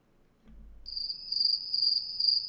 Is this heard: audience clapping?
no